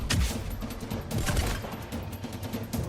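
Rapid, continuous gunfire in the video game Mass Effect 3, a steady rattle of close shots sustained across the whole stretch with no talk over it.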